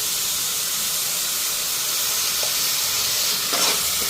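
Eggplant and onion greens frying in a pan, a loud, steady, close sizzle and hiss throughout, with faint stirring scrapes.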